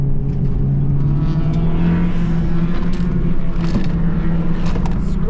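A Honda Civic Type R drives with a steady, loud engine drone and road rumble, its tires scrubbing as it weaves to warm up, the tone holding fairly constant throughout.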